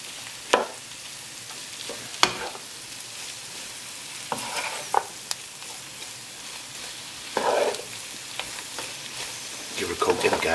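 Garlic and ginger paste is stirred into onions frying in a pan for a Nepalese Gurkha curry: a steady sizzle broken by intermittent scraping strokes, close and fairly loud.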